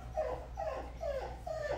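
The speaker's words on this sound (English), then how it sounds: "That's our dog, Maya." A pet dog whimpers and whines in a series of four rising, drawn-out cries, close and fairly soft, heard over a steady low hum indoors during a ballet barre class.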